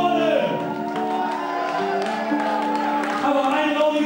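A concert crowd at the Salzgitter Kulturscheune claps, cheers and whoops steadily for a few seconds, loud and close, with a voice carrying over the noise.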